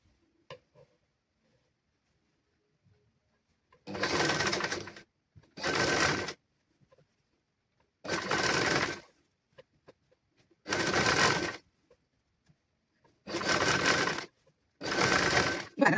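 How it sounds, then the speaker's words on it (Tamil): Sewing machine stitching children's clothes in six separate bursts of about a second each, a close, loud, rapid mechanical whir with quiet pauses and small clicks between runs. "இதில் நோட் போட்டுட்டு நாங்கள் தைப்போம்."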